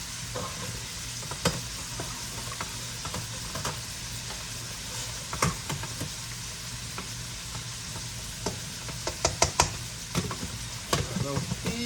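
Ribeye sliders frying in a pan give a loud, continuous close sizzle with occasional sharp pops and clicks throughout, no talking over it.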